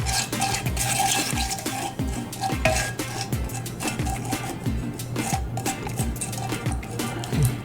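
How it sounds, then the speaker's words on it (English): A spoon scrapes and clinks steadily against a pan as sugar is stirred into oil with herbs and spices, close and busy with a low hum beneath, no talking. "just go ahead and mix the sugar with the oils, with all the herbs and spices."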